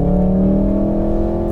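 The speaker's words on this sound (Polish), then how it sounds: "tutaj w Volkswagenie Golfie R w trybie Race, mamy syntezowany dźwięk wydechu z głośników wewnątrz samochodu" Synthesized exhaust note played through the cabin speakers of a VW Golf 7.5 R in Race mode, a loud, steady droning engine hum with layered tonal bands, holding a constant pitch without pauses.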